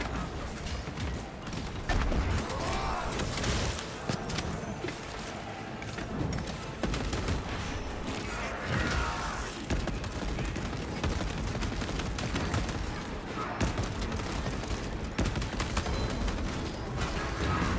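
Gunfire in Space Marine 2 comes in dense, repeated bursts of rattling shots and heavier thuds, loud and nearly continuous, amid mechanical game noise.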